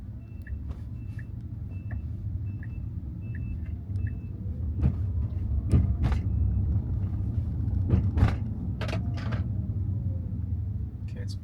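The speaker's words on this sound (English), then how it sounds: "It's braking here for some reason." A Tesla Model Y running Full Self-Driving Supervised 12.5.1 drives along with a steady low road rumble, with faint repeated beeps early on and a few brief clicks and knocks as it slows and brakes.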